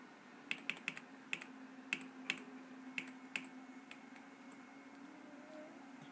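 Quick, faint clicks of the delete key being pressed over and over on a Logitech K120 USB keyboard, landing in an irregular burst before trailing off over a low electrical hum.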